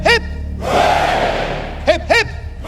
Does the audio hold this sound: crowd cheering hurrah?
yes